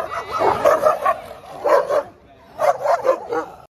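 Several dogs in a park bark and yip in quick bursts, close and loud, with a short pause before another flurry of barks.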